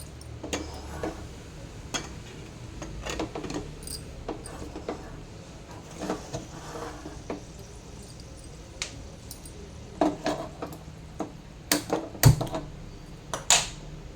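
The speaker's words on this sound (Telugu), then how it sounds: "దీన్ని కుక్కర్ మూత పెట్టేసేద్దాం" A pressure cooker lid is fitted onto a pot of soaked chickpeas for chole, heard as a run of light metallic clicks and taps that grow sharper and louder toward the end, with no talking.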